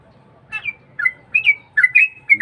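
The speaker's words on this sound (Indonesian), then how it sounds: "Kita menikmati suara kicauan burung trucuk sambil ngopi guys." A yellow-vented bulbul sings in the morning, close and clear: a series of bright, bubbling whistled phrases in short bursts, rising in pace toward the end, over a faint low hum.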